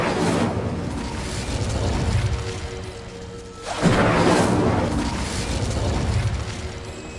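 The Incendio fire spell is cast in a video game, giving two broad whooshing bursts of flame about four seconds apart, loud and close, each swelling and fading without speech.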